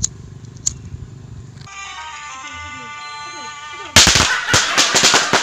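Sharp firecracker bangs burst out in a rapid, loud cluster near the end, following a stretch of quiet tonal background sound, in a Madurese village setting during the pre-dawn sahur meal.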